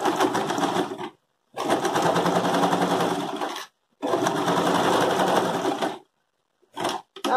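A sewing machine runs in three long bursts of steady, rapid stitching, sewing a straight seam to attach bias tape. The bursts are loud and close, separated by short pauses, with two brief spurts at the end.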